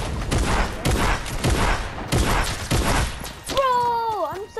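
Repeated bursts of gunfire from the video game Fortnite, loud and clustered in several volleys, followed by a brief electronic tonal sweep at the end.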